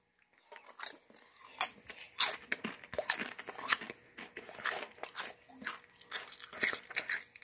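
Close, crisp crunching of a Pringles potato chip being bitten and chewed, a run of sharp cracks and crackles repeating at an uneven pace for several seconds with no talking.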